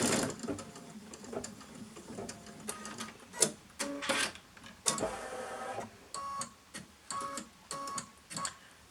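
A domestic sewing machine stitches fabric in quick mechanical bursts, its rhythmic whirring and ticking starting and stopping several times at close range.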